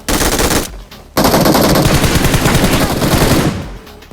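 Loud machine gun bursts in the mobile battle royale game BGMI (PUBG Mobile), a rapid close-range rattle of fire broken by a short pause, then a long sustained burst.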